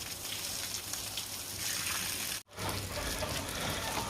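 Water is poured out in a hot, dry rural setting, making a steady hissing gush that briefly cuts off just past the midpoint, then resumes at a similar moderate level.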